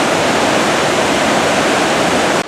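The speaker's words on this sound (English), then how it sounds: "The water is just flowing today." Loud, steady rushing roar of Silver Falls at Mt. Rainier National Park, dense and continuous throughout, cutting off abruptly at the very end.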